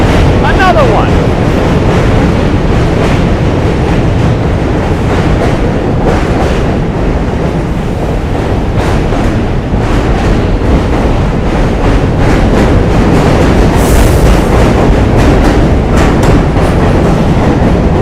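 Subway trains rumble loudly across the Manhattan Bridge in New York City, a close, continuous roar of wheels clattering on the rails that lasts throughout, with occasional voices in the background.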